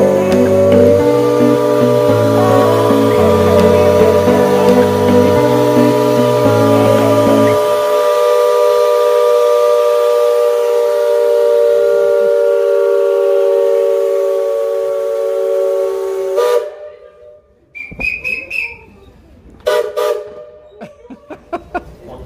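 Maria fumaça steam train whistle blowing as the train departs, a long loud sustained harmonic tone held for about sixteen seconds over rhythmic chuffing at first, then cutting off into quieter clanks and hiss.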